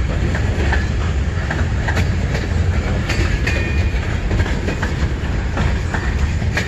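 A loud CN freight train rolls steadily past close by in Emmett, Michigan, a continuous rumble with rhythmic clicking of wheels over rail joints and a faint squeal.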